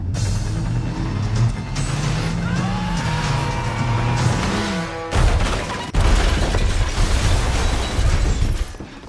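A car rams another car through a roadside barrier in an action film scene: engine roar and music-like tones build, then heavy crunching impacts and crashing debris hit loudly twice in quick succession.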